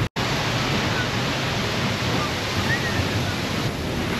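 Ocean waves crash against rocks on an Icelandic shore, a steady, loud broadband roar of surf and spray lasting throughout after a brief cut at the start, with wind buffeting the microphone.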